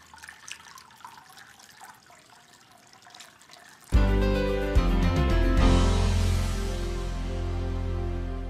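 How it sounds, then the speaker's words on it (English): Water is poured from a coffee pot through a funnel into a Mediflow Original waterbase pillow. Quiet handling noise comes first, then a sudden loud gushing stream that continues steadily and close. "Pour the water into the pillow."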